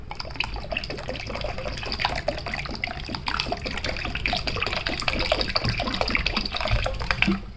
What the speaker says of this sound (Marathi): ह्यामध्ये पाणी ॲड करायचं आहे।